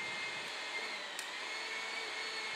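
A HYTORC hydraulic wrench pump runs with a steady, even mechanical whir and hiss, holding constant volume throughout with one faint click partway through and no voices.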